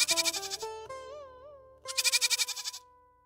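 A cartoon goat bleats in two loud, quavering bursts with a short pause between them, close and clear.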